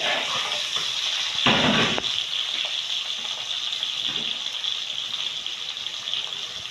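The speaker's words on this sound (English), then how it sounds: "I'm adding the onions." Onions sizzle and crackle steadily in hot oil in a pot for egusi soup, with a louder hiss burst near the start as they go in, then continuous frying close by.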